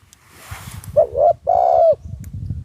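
Two loud, near coos from a spotted dove, a newly trained decoy bird: a brief note, then a longer sustained one, over a low rustling outdoor background.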